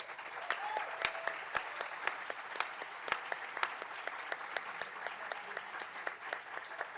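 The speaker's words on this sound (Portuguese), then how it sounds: "Uma salva de palmas, por favor." A small audience at a discussion on Black organizations applauds a speaker, with soft, sparse clapping and a few sharp individual claps standing out throughout.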